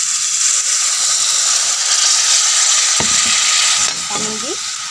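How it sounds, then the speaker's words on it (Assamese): Water poured into tomatoes frying in a pan, a strong steady hiss and sizzle throughout, joined by a few clinks of a utensil toward the end. "এতিয়া মই ইয়াতে অকমান পানী দি দিম"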